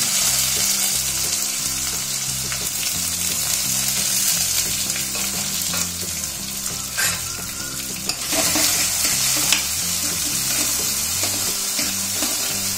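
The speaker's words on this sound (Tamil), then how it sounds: "இப்ப நம்ம நசுக்கி வச்சிருக்க வெங்காயம் சேர்த்துடலாம், கூடவே பூண்டும் சேர்த்துடலாம்." Crushed onion and garlic sizzle and fry in hot oil in a pan while being stirred, a steady loud crackling hiss with repeated scraping strokes throughout.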